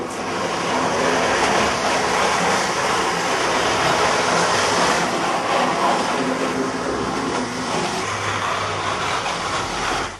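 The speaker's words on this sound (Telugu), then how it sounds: "మెట్రో రైలు పట్టాలపై పరిగెడుతుంటే ఎలా ఉంటుందో చూపుతున్నాడు ఓ విద్యార్థి" An engineering student's model metro train runs on its tracks at an exhibition, giving off a steady, loud, dense whirring rumble that holds without a break.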